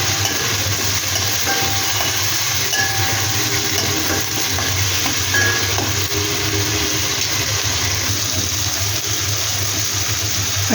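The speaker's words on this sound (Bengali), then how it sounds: "1 চামচ আদা রসুনের পেস্ট দিয়ে দিলাম।" Ginger garlic paste fries in a pan, giving a continuous close hiss and sizzle with small crackles throughout and no voices.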